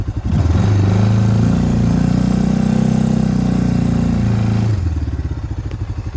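A Mikilon Hardy or Linhai M170 utility vehicle engine drones loudly and steadily under load climbing a hill at about 4,000 rpm, holding a constant strained pitch, then drops away to a lower idling chug near the end.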